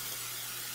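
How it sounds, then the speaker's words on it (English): Cooking spray hisses in one continuous, faint burst onto a baking pan, heard alone and close. "I'm just going to spray our cooking pan with a little bit"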